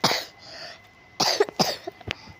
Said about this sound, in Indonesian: Sorry guys, batuk-batuk.